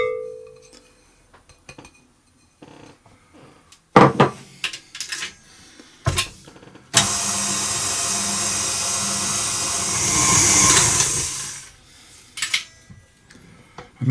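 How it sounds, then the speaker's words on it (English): Flour being mixed into frangipane tart dough in a bowl, heard as scattered clinks and scrapes, then a sustained loud whirring stretch of mixing for several seconds before it trails off into a few final knocks. "So then I'm going to add in my flour, and I'm simply going to mix that until it's all combined."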